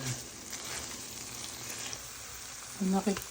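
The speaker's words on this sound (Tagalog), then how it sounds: "Tutuyuin mo siya ng tutuyuin sa mantika." Chicken fries in oil until crisp for chicken pastil, a steady close-up sizzle with a short clink of a utensil near the end.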